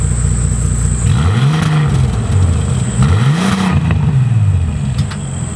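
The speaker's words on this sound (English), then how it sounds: "Now, in regular mode, the exhaust sounds pretty good." Bentley Continental SuperSports exhaust in regular mode, a loud deep rumble that swells through two rising-and-falling revs, heard close and alone with no talking.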